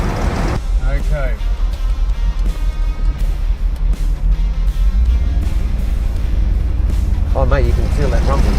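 A 1969 Ford Mustang BOSS 429 gives a loud, continuous low engine rumble while driving, heard from inside the car. Engine note swells near the midpoint, and people talk briefly over it.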